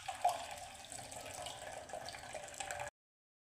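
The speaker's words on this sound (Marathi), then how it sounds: "हे बघा अशा प्रकारे पाणी काढून घ्यायचं आहे चाळणीनं." Water from soft cooked lentils pours and splashes through a sieve for puran poli, a steady close trickle running for about three seconds before stopping abruptly.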